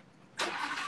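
A naturally aspirated 5.2-litre V10 supercar engine starts with a sudden loud roar and settles into a steady, full-throated idle close by, following a moment of near quiet.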